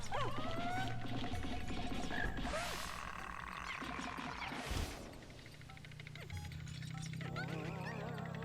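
Frog enemies in the video game Pikmin 2 croak in short warbling bursts over busy game music and sound effects, with a heavy thud partway through as one lands.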